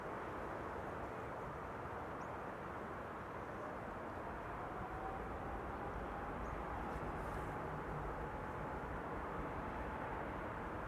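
A Transavia Boeing 737 arrives at Schiphol, a steady distant jet rumble and whine holding level throughout, fairly faint and without talk.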